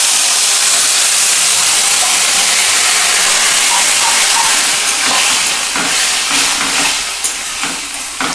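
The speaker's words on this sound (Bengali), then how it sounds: "এবার আমি শাক ঢেলে দিচ্ছি" Punka greens tipped into hot tempering oil set off a loud, steady sizzle and hiss that carries through the whole stretch, easing slightly toward the end with a few sharper crackles.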